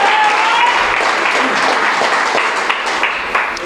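A church congregation applauds during a sermon, with dense, steady clapping filling the room from start to finish. Faint voices are mixed in underneath.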